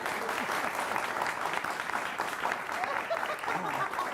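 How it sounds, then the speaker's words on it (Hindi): Audience at a Hindi comedic poetry event claps steadily throughout, a dense, continuous round of applause with faint crowd murmur beneath. "ताली बजाओ।"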